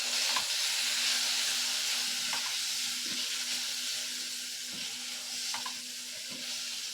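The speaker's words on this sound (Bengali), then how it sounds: "হলুদ আর লবণ দিয়ে ভালো করে আমটাকে কষিয়ে নিচ্ছি।" Raw mango sautéing in a pan with turmeric and salt, a steady close sizzle with soft stirring scrapes recurring every second or so, no voices.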